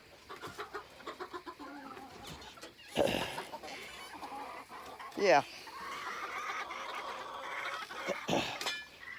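Hens cluck and squawk close by, with a few sharp louder calls standing out; a person says a word briefly.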